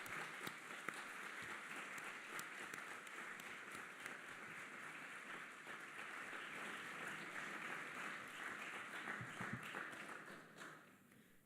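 An audience at a Model UN opening ceremony applauds the committee chairs as they rise, a faint, steady sustained clapping heard from a distance.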